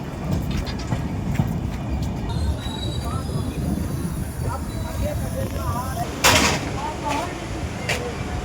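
An intercity train rolls through Madwas railway station as passengers board, a steady rumble of wheels and carriages with a brief loud hiss or squeal partway through, a voice speaking over the noise.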